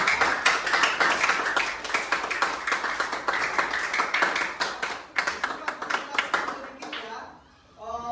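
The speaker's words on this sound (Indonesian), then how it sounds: "Tepuk tangan untuk kelompok 2." A classroom of students claps for a group, a lively burst of hand claps running for several seconds with some rhythmic patches, then trailing off as voices come in.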